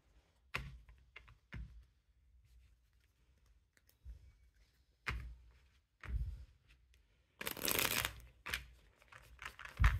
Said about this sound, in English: Shuffle them up.